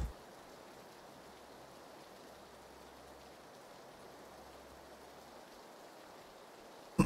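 Soft, steady rainfall hisses continuously at low volume in the video game PUBG, an even wash of falling rain with no voices over it.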